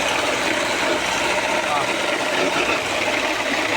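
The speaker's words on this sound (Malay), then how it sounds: "Dia ada bunyi kasar, bunyi humming, rough sound." A damaged vehicle transfer box gives off a steady, rough, grinding hum, loud and continuous with a broad gritty texture and no break.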